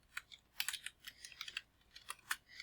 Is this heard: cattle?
no